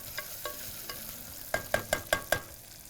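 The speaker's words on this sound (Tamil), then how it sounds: "இப்போ இந்த ஸ்டேஜில் தயிர் ஊற்றிக்கலாம்." Curd is poured into frying masala in a pan and stirred in, giving a run of five sharp spoon scrapes and clinks near the end after a few softer taps over a low sizzle.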